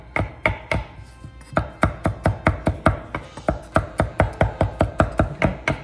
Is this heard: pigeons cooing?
no